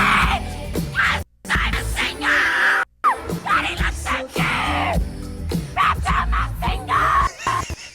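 A concert audience member yells and screams a pop song's lyrics at full voice, loud and ragged over the music, with short breaks between shouted lines.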